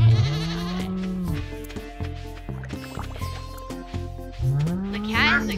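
A goat in the farming video game Stardew Valley gives drawn-out bleats at the start and end, with chimes, splashing and other game sound effects in between.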